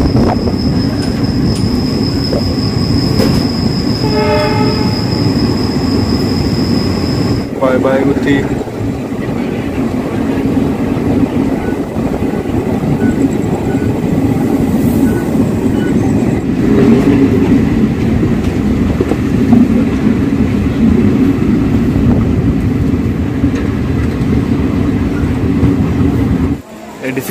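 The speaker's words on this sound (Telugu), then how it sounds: "గుత్తి స్టేషన్ డిపార్చర్ చూడండి ఫ్రెండ్స్" The Kacheguda–Yelahanka Express rumbles and clatters as it pulls away from Gooty station, wheels squealing briefly early on, with a voice speaking briefly over the steady rolling noise.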